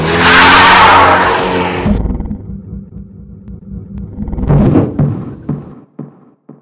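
A car speeds off in a burst of loud, roaring engine revs over the first two seconds, then the engine drops to a lower rumble that swells again briefly before fading, with a few sharp knocks near the end.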